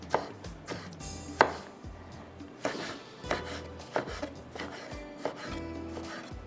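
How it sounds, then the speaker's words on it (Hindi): Knife chopping tomato on a cutting board in an irregular series of sharp, fairly close thuds and taps, with no talking. "इसको थोड़ा बारीक चॉप कर लीजिएगा"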